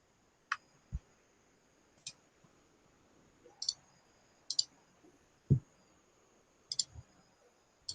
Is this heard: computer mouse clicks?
yes